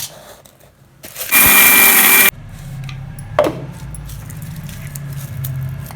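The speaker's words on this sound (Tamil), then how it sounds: "நான் பெரிய ஜார் வச்சுருக்கேன். அதனால் பெருசில் போட்டு அரைக்கிறேன்." A mixer grinder with a large jar runs at high speed on roasted lentils and spices, a loud roaring whir lasting about a second, with handling clunks and a low background rumble before and after.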